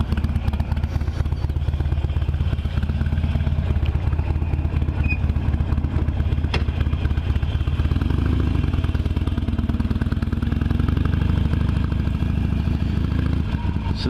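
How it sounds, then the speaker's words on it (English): A Harley-Davidson Iron 883 motorcycle being ridden, its engine a steady low rumble with road and wind noise droning continuously throughout, close and loud. "Just take a little ride on the iron."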